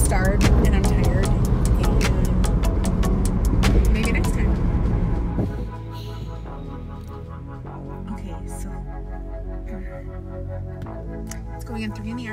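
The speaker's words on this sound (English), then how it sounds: "We're talking in the car as we're driving down Robert Street through West St. Paul." Interior of a car driving down Robert Street through West St. Paul, a steady low engine and road rumble throughout, with people talking over it and passing traffic noise.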